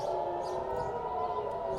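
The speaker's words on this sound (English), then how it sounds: "as air raid sirens are sounding across Jerusalem at this moment" An air raid siren sounds across Jerusalem, a steady sustained wail heard from a distance, holding an even tone for the whole stretch without pauses.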